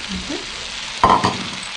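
Spices, ginger and leeks stir-fry in a hot pan, a soft background sizzle broken by a brief, louder scrape and clink of stirring near the middle.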